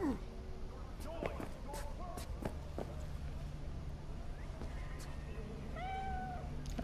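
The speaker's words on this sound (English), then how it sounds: "Oh, that's a cat." A cat meows several times in the video game Cyberpunk 2077, short rising cries mixed with footsteps and thumps in a game scene, the meows clear and fairly close over a steady background.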